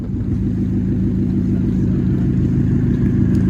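A Ford Fusion engine with a Cherry Bomb exhaust gives off a loud, close, deep exhaust drone that holds steady throughout, with no talking.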